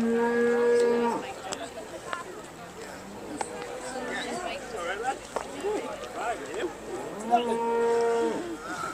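Beef Shorthorn cattle low at the Great Yorkshire Show, with two loud, drawn-out moos, one at the start and one near the end, over a busy crowd murmur and people talking in the middle.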